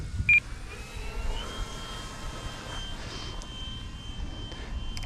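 An E-flite Draco RC STOL airplane flies slowly with landing flaps down, its electric motor a faint, steady whine at a distance over broad outdoor wind and rumble, with a brief sharp chirp near the start.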